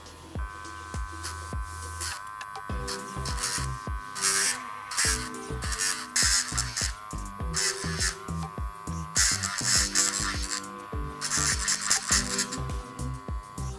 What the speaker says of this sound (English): she's not afraid of the noise that's being emitted from both the pet vacuum cleaner as well as the electric trimmer